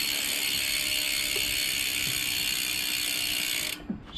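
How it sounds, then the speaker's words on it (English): Rear hub freewheel of a Dolan DR1 road bike ticking as the wheel spins: a fast, even, buzzing ratchet click, loud and close, running steadily before it stops abruptly near the end. "I'll show you through the hub while I'm here. It sounds mint. Listen to that."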